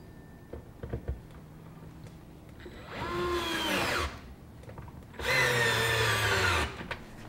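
Power drill driving screws into a garden railroad gondola installation, two sustained whining bursts of a few seconds each rising in pitch as the motor loads, heard close and loud with no talk.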